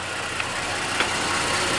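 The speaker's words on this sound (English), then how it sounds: "So we've got it idling in park" A 2018 Toyota car engine idles in park on level ground, a steady low even rumble close by with no talk over it.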